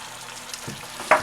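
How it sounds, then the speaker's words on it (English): Pork juices poured into a hot pan for Greek pork chops with tomatoes and potatoes, a low steady frying hiss that bursts into a loud sizzle near the end. "And now I do have some juices from the pork, as you see right here. So I'm just going to pour them right in."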